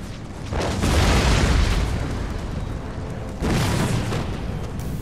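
Musket volleys from line infantry in the strategy game Empire: Total War, heard as loud, dense rumbling bursts of gunfire with two swelling waves of crackling volley fire over a continuous battlefield din, no voices.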